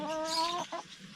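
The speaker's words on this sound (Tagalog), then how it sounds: "Yung mga manok natin, oh," Farmyard chickens let out a drawn-out harmonic call followed by a couple of short, close clucks, with no talk.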